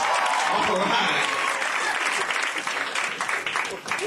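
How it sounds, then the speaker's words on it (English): Loud sustained applause from a stand-up comedy audience in Houston, a dense wash of clapping that tapers slightly toward the end. "Round of applause."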